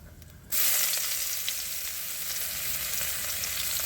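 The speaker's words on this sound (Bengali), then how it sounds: "জিরেটা হয়ে গেছে, এবার পেঁয়াজ কুচি দিয়ে দেবো।" Chopped onions dropped into hot oil with cumin seeds begin to sizzle loudly all at once, then settle into a steady, close frying hiss.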